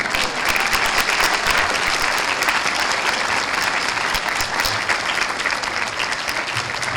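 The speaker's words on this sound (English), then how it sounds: "one more round of applause for our 17 Strong speakers" A breakfast crowd at a Hamilton community celebration gives sustained applause for its speakers, a loud, even roar of many hands clapping without a break.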